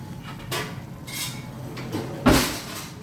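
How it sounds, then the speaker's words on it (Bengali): A cooking pan being covered with its lid while prawns simmer in a home kitchen, giving a few sharp metallic clanks and scrapes, the loudest near the end, with no talking. "একটু ঢাকা দিয়ে দেবো।"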